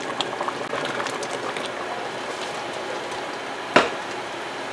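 A pot of strawberry jam boils on a stovetop burner, a close, steady bubbling and popping with one sharper clack partway through.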